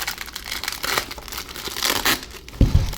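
Tape peels off an SSD holder package with a close, crinkly tearing rasp in uneven pulls, and a couple of soft thumps come at the end.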